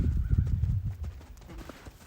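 A horse's hooves strike the ground at a canter in a close, rhythmic run of heavy thuds, with a brief whinny-like sound and no speech.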